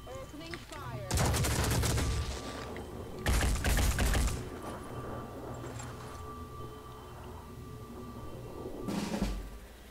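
Gunfire in the tactical game Phoenix Point: two long, loud bursts of rapid automatic fire, then softer scattered shots and a brief final burst, alone without speech.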